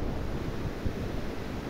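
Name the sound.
river water flowing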